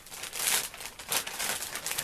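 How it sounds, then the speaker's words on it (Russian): A plastic ziplock bag packed with a new foldable school bag crinkles close by, rustling in two soft waves with no talk over it. "Вот тут вот пакетик на зиплоке."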